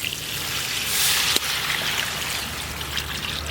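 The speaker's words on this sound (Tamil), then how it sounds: "அப்படி முங்குற அளவுக்கு தண்ணி ஊற்றிக்கிறேண்ணா." Water trickles and pours steadily into a pan of chicken liver and masala, a continuous close liquid stream with a brief sharp knock partway through.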